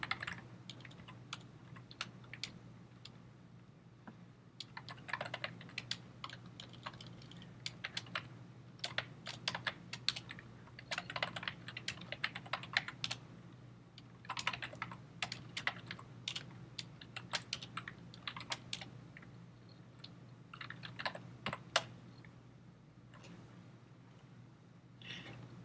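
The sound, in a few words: typing on a computer keyboard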